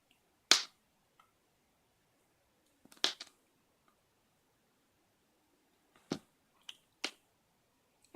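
Water on a hot soldering iron sizzles and pops in a few sharp, isolated crackles, close and fairly quiet, scattered over near silence.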